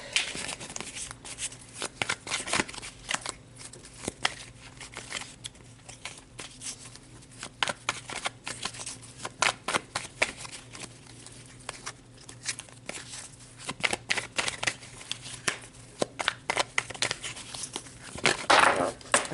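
Tarot cards being shuffled and handled at close range, giving irregular papery riffles, flicks and soft crinkles that come in bursts and grow busier toward the end.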